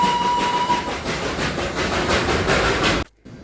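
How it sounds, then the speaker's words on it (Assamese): The Darjeeling toy train runs past on a hill road, a loud rolling rumble with rhythmic rail clatter and a faint steady whistle tone, then an abrupt cut to near silence at the end. "হঠাৎ আমি দেখিলোঁ টয় ট্ৰেইনখন।"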